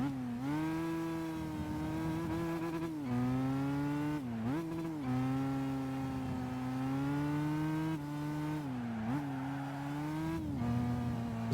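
A racing car engine in Gran Turismo 5 drones loud and close, its pitch rising and dipping with gear changes and throttle lifts as the car pushes to overtake, with no talking.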